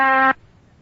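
An electric oscillator in a 1936 Columbia Workshop radio broadcast sounds one steady, buzzy, harmonic-rich tone at 256 reversals per second, imitating a spinning iron bar. The tone is loud and close, lasts about a third of a second, then cuts off abruptly into faint hiss.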